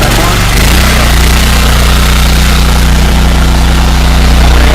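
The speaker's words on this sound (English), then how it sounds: "Go ahead and start the engine." Small gasoline engine on a pressure washer used with a surface cleaner for carpet cleaning, running steadily after starting with a loud, continuous low drone and rumble throughout.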